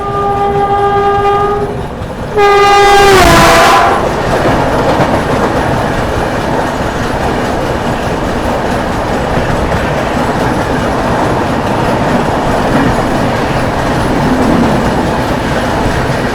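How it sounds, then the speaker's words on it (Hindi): An oncoming Indian Railways train hauled by a WAP-7 electric locomotive near Ghaziabad Junction, its horn blaring twice before a loud, sustained rumble and rattle of wagons passing close by. "यहाँ सामने से कोई ट्रेन भी आ रही है वैप 7 के साथ"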